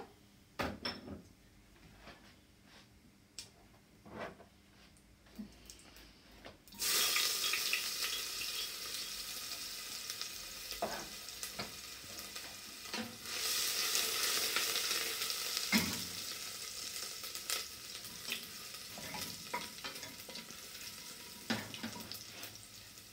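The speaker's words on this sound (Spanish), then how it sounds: "aceite está caliente, ahora voy a poner un poquito de comino para dar sabor" Cumin seeds hit hot oil in a pan, and a sudden, steady sizzle surges up and hisses on while a few light knocks sound, after a quiet start.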